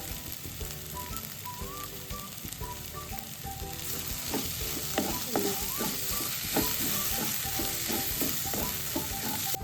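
Coriander and mint leaves stirred into a sizzling frying pan for a prawn biriyani, steady close frying hiss under clinks of the spoon against the pan, the scraping growing busier and more rhythmic halfway through.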